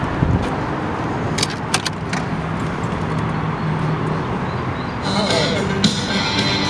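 A 2001 Honda Goldwing GL1800 with a California sidecar trike kit and fairly quiet pipes is started: keys jingle and click, then the engine catches near the end and runs at a steady, moderate volume.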